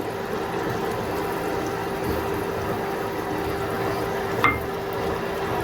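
Fish curry simmers steadily in a pan after roasted cumin powder is stirred in, giving a continuous soft bubbling hiss throughout with one brief clink near the end.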